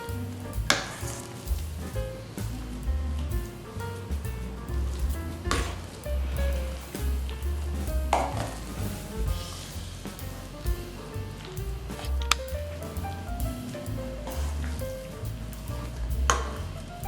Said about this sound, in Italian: Aggiungo il burro, faccio sciogliere.